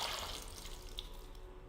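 Water splashing and trickling from a water skin as ooze is rinsed off in Pillars of Eternity, a short, faint, steady pour with light drips.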